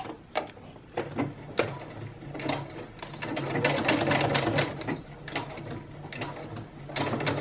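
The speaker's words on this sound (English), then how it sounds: "you're only sewing through the underwire casing." A sewing machine stitches through bra underwire casing in short, stop-start runs of rapid mechanical clatter that build into a longer steady burst, close by and moderately loud.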